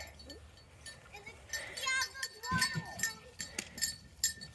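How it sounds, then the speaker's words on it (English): Goats bleating and scuffling as they fight over a bucket of feed on a farm, with harmonic bleats, clinking and shuffling, fairly close, over a steady outdoor background. "the goats are fighting over the bucket of feed we brought for them"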